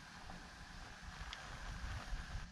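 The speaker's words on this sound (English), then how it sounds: "the wind's picked up." Wind gusting outdoors rushes and buffets steadily against the microphone, a low, rumbling and fairly faint roar that swells near the end, with no talking.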